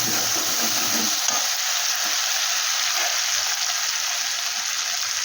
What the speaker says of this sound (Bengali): এবার এটাকে একটু ভালো করে আমি নাড়াচাড়া করে নিই